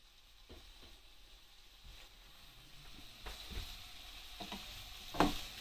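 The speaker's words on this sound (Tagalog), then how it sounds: "Lagyan ng mantika, konti. Tapos, i-fry lang natin yan" Chicken pieces fry in a little oil in a frying pan for a teriyaki dinner, with a steady close sizzle, soft stirring scrapes throughout, and a louder crackling spatter near the end.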